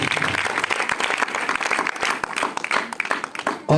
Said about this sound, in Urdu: تو خداوند یسوع مسیح کے لیے ایک دفعہ زوردار تالیاں بجائیں۔